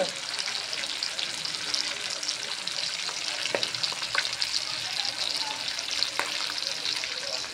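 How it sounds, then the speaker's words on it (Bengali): Fish frying in oil in a karahi gives a steady, close crackling sizzle with a few sharper pops and spatters, and no voices over it. "কড়াইতে মাছ বসায় দিছি, হচ্ছে মাছ"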